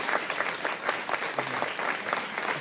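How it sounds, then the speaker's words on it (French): Audience applauding at a community culture event on Réunion, a dense, continuous burst of clapping from many hands, fairly close and without speech. "Un petit peu applaudir à tout le monde."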